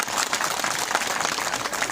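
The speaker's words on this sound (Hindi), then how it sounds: "एक बार जोर से तालियां लगा दो" Steady loud clapping from an audience at a felicitation ceremony for an MLA, dense and continuous throughout without a break.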